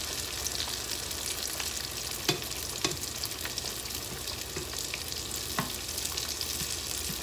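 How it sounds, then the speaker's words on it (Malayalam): Kerala neyyappam frying in hot oil, a dense steady bubbling sizzle with a few sharp ladle taps spaced through it; no speech. "ഓരോ നെയ്യപ്പമായിട്ട് നമുക്കിങ്ങനെ ചുട്ടെടുക്കാം."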